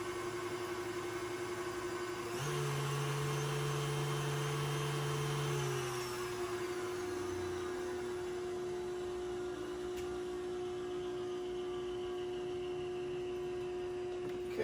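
Waffle batter whisked while melted butter goes in, a steady whirring hum with a tonal drone that holds for about six seconds, then eases into a quieter continuous whir, no talking.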